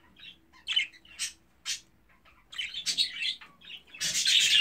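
A jumbo show budgerigar, a competition bird, gives sharp close chirps and squawks in short bursts with brief pauses, building to a denser, louder run of chatter at the end.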